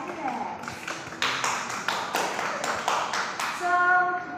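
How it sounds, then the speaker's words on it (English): A small group claps for a classmate during a classroom activity, with several distinct loud claps and a patter of hands, then a brief ringing tone near the end. "Let's clap some hands for Alex."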